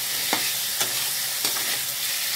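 Chicken being stir-fried in a pan for chicken bhuna, a dense, steady sizzle with a few soft scraping stirs, close and fairly loud, with no talking.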